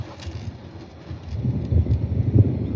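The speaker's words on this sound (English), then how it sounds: "Y'all hear that thunder?" Low, distant thunder rolls and rumbles during an outdoor live stream, swelling softly toward the end against a steady background hiss, with no speech.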